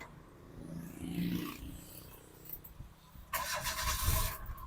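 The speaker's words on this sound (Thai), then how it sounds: "เราฟังเสียงเครื่องยนต์นะครับผม" A Nissan NV small pickup truck engine cranks briefly and catches, then revs up with a rising roar near the end.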